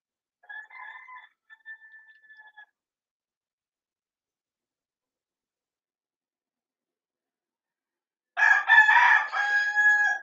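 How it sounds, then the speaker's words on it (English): Roosters crow twice: one faint, distant cock-a-doodle-doo near the start, then a louder, closer crow after a long silence. "Oh, the freaking roosters,"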